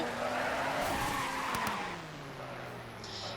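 A custom car skids in the video game Car Crusher 2, a loud continuous tire screech with engine tone running throughout and easing off slightly toward the end.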